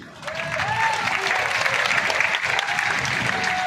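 An audience at a religious darbar gathering claps steadily in a sustained wash of applause, with voices faintly audible through it.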